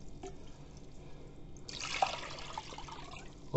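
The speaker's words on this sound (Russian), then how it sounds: "Заливаем рассолом, чтобы прям полностью оно было покрыто." Brine pours over pink salmon prepared for cold smoking, starting as a sudden, steady gush of liquid after a quiet lead-in, close and fairly soft, with no talk.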